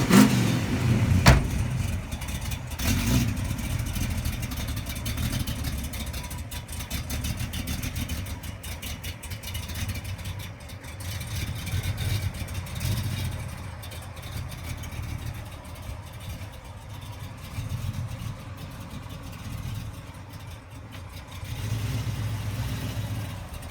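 A 1972 Pontiac GTO under restoration, freshly water sanded, has its engine started with a brief crank, then revs and settles into a steady, rumbling idle that stays up close and fairly loud throughout.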